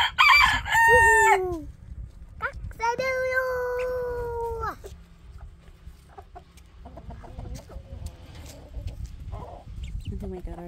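A rooster crows loudly nearby, twice in drawn-out calls, in a backyard pen shared with chickens, ducks and a pygmy goat, followed by softer clucking and chatter of hens under light background noise.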